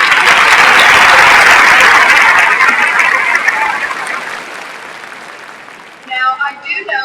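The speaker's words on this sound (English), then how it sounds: "So, Dr. Brady, I think you deserve a round of applause." A commencement audience at UNCG's spring 2012 graduation gives a loud, dense round of applause that fills the hall for several seconds, then tapers off as a voice begins speaking near the end.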